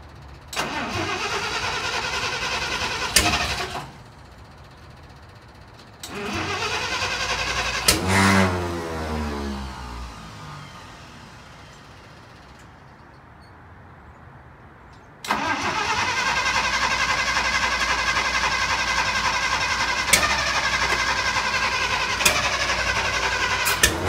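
A 1953 International rat rod being jump started: the engine cranks, catches and runs loudly in several bursts, with a cutoff and a quieter stretch, then fires again into a steady, rough idle.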